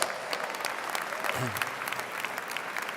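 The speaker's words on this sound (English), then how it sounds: "Give yourself a round of applause" A graduating crowd of NJIT computer science master's students at a commencement ceremony bursts into dense, sustained applause that fills the hall steadily from start to finish, with a brief voice rising through it midway.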